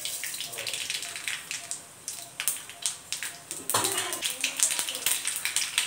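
Mustard seeds and asafoetida splutter in hot oil in a kadai, with faint, irregular crackles and pops scattered across the clip and a burst of denser popping near the end.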